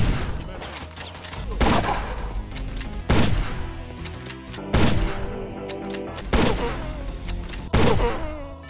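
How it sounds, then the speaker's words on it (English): Rifle gunfire in the video game White Hell: heavy single shots at spaced intervals, each a loud boom with a ringing tail, over a continuous backing of game music. "one more weapon that I really want to show you from this game that is not a shotgun, and that is the rifle"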